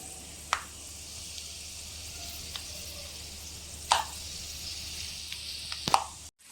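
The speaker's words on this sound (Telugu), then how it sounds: "ఒక 5 స్పూన్స్ ఆయిల్ వేసుకొని హీట్ 50 గ్రాముల పల్లీలు వేసుకొని వేయించుకుందాము" Peanuts fry in a few spoons of hot oil with a faint, steady sizzle, broken by a handful of sharp pops and clicks from the pan.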